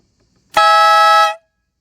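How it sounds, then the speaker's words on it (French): A WADEO 12V truck air horn with compressor gives a single loud, near blast lasting under a second, strongly harmonic and steady, starting abruptly and cutting off cleanly. "Ça klaxonne super fort."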